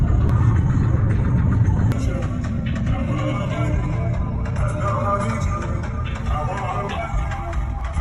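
A car drives along city streets on the way to a home neighbourhood, heard from inside as a steady low road-and-engine rumble that stays loud and even throughout, with faint clicks and rattles on top.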